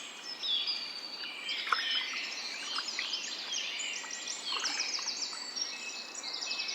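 Shy birds calling and chirping in wet alder woods, a scatter of thin bright calls and trills near and far, some overlapping, steady through the stretch with no voices.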